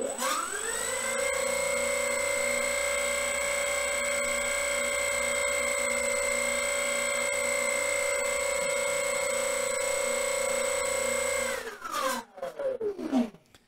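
The electric motor of an RC airplane is powered up while the plane is held by hand. It gives a steady, loud whine with strong tonal harmonics for about eleven seconds, then winds down quickly, leaving brief rustling handling noise.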